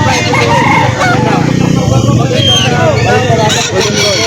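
At a poultry market in Lipa, Batangas, a rooster crows and chickens cluck and chatter. People talk over the birds in a busy, noisy setting.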